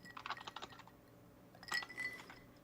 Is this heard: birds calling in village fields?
no